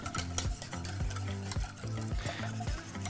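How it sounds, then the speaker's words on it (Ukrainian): Egg yolks and syrup for pastel de nata custard are stirred in a bowl, a spoon scraping and clicking in quick rhythmic strokes, soft and close with a faint wet texture. "Спочатку вливаємо сироп і гарно розмішуємо до однорідної такої маси."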